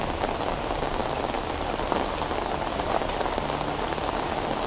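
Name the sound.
heavy rain falling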